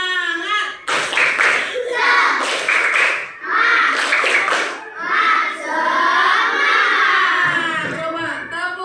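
A classroom of children performs the tepuk semangat clapping chant, bursts of rhythmic group clapping alternating with loud chanted and shouted voices, close and lively, with clear pauses between sections.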